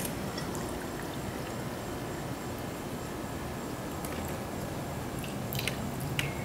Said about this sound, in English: And I'm going to fill the ballast tank up.